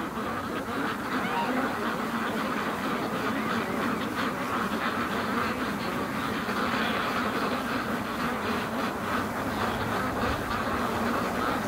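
A flock of free-range ducks out on a frozen lake quack continuously in a dense, busy chorus at a moderate distance, with some voices heard faintly.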